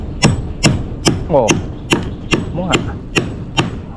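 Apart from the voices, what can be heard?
hammer striking nails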